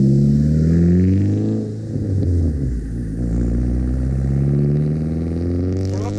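A modified Saab 9-3 Viggen with a 3-inch turbo-back exhaust, intake and raised fuel pressure drives on the road, its engine droning and rising and falling in pitch as it accelerates, heard from inside the car.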